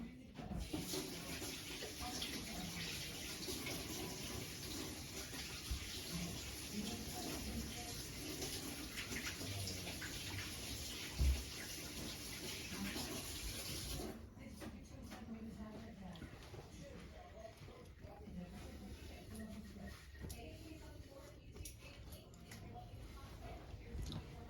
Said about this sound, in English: once he's done, wash your hands